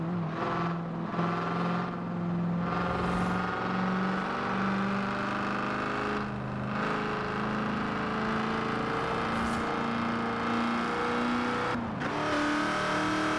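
A car engine in Forza Horizon 4 idles and revs gently at low speed, a steady rumbling drone with slight rises in pitch and no one talking.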